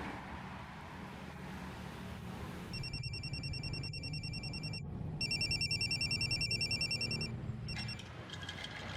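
A telephone rings repeatedly in bursts over a low background rumble, trilling on and off without being answered, then cutting out near the end.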